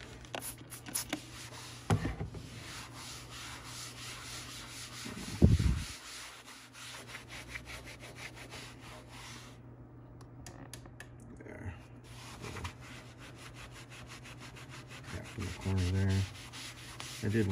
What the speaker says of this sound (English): very fine grit sandpaper.